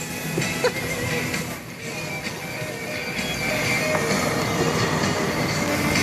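A train rumbles along the rails with steady clattering and a high metallic squeal, continuous and close, no voices.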